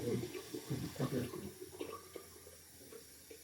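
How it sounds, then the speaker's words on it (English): Water runs from a sink tap in short uneven bursts of splashing and trickling, fairly quiet and close, with faint movement around it and no talking. "I'm washing myself out with the sink."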